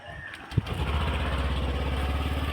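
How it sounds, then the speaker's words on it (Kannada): A motorcycle is started with one sharp catch, then settles into a steady, low, pulsing idle close by. "ಅವ್ನು ಬೈಕ್ ತೆಗಿತಾ ಇದ್ದಾನೆ,"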